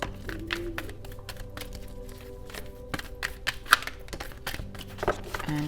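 A deck of tarot cards is given a quick shuffle close by, making a quiet run of irregular soft taps and light clicks with a few sharper snaps.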